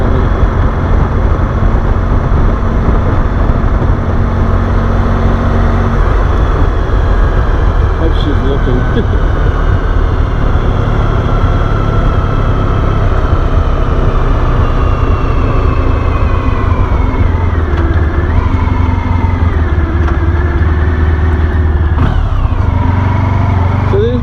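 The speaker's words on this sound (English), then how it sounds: "my first ride on a motorcycle in more than a month." A 1994 Honda ST1100 motorcycle engine drones steadily at speed with wind rush on a night ride, shifting pitch as it accelerates and slows, loud and continuous.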